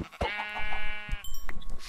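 A Minecraft sheep gives a single clear bleat up close, a wavering nasal cry lasting about a second, followed by softer game sounds.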